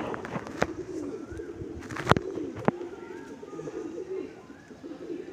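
A Madrasi pigeon coos in soft low phrases close by, with a few sharp knocks and faint background rustle around the calls.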